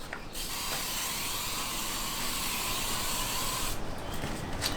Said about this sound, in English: all I do is get this and spray it on.